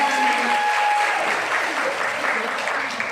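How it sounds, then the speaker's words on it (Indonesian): Steady applause from a seated group at a personality development and beauty class training session, moderately loud and sustained throughout with a faint voice over it. "Kita tepuk tangan semuanya."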